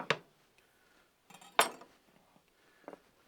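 Metal spatula scrapes and clinks as peppers are raked off a Blackstone griddle into a dish, a few sharp separate scrapes with quiet gaps between them.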